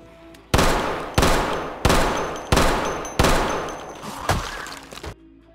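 Gunfire in Project Zomboid, a zombie survival game: five loud, evenly spaced blasts ring out close, each with a decaying tail, followed by a smaller final shot before quiet.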